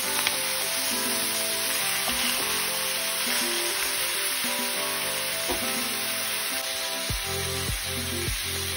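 Chicken liver for adobo sizzles and fries steadily in a pan while being stirred, with a continuous close crackling hiss under faint background music.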